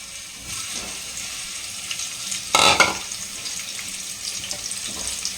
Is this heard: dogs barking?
no